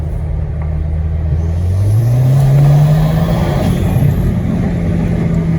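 An Audi A4 or A5 pulling away hard in first gear on an open road, a loud engine drone whose pitch climbs steadily over several seconds, with steady road rumble and no talk.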